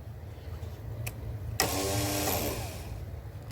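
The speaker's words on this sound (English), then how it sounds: "the Bendix will pop up when I hit the key, but then the starter itself is just spinning" A car starter spinning freely without the Bendix engaging, heard as a click and then a sudden whirring spin that runs for about a second before fading into a quiet hum.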